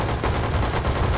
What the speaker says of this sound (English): Machine gun versus pistol.